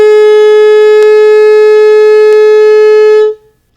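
A saxophone mouthpiece and neck played without the body of the horn give one loud, steady, reedy high tone that holds for about three seconds and then stops abruptly.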